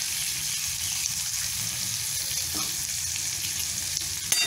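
Ginger garlic paste sizzles and spits in hot oil in a kadhai wok, a steady, close, crackling fry that runs continuously without any talk, with a faint scrape near the end.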